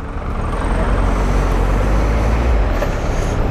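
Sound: road traffic noise

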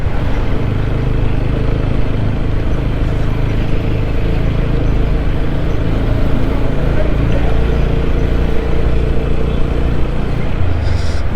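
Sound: motorcycle riding on mountain road

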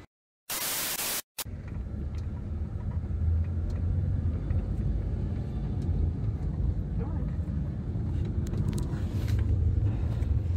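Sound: car driving

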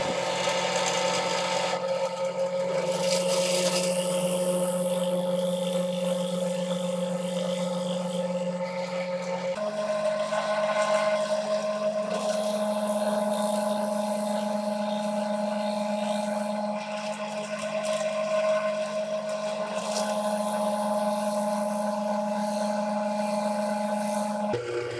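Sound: drilling plugs in red oak with 3/8 inch plug cutter

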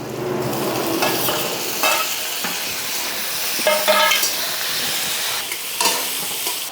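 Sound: chopped onion and tomatoes frying in oil, Bengali duck curry

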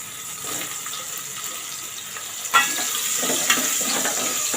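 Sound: sliced onion frying in a pan

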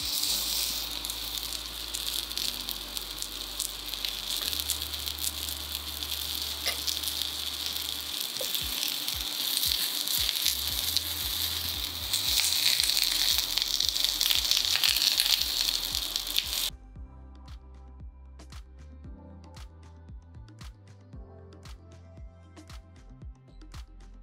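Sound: stuffed capsicum roasting in a pan

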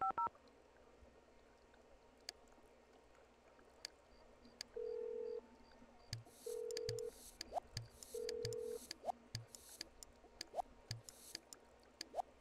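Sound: telephone dialing in The Sims 1 video game

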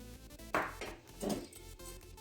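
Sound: mixing sugar, salt and yeast for onion buns

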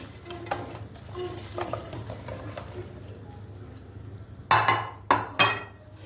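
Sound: bread pieces toasting in butter in pan

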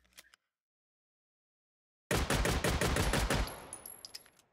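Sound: shotgun firing buckshot in a VR video game

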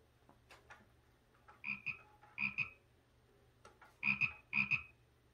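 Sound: Amazon Astro home robot imitating a frog croaking

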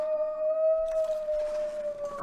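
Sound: wolves howling in the video game The Long Dark

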